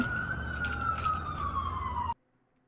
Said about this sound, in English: those are the boops that they typically have on like ambulances, but that also sounds like the police